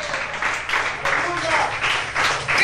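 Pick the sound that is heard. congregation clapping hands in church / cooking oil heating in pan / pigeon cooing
congregation clapping hands in church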